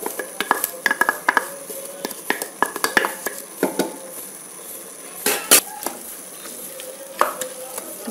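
Crushed ginger, garlic and green chilies are stirred into sautéing onions in a pan for Cochin-style beef rice, with repeated close spoon scrapes and clatter over a soft frying sizzle.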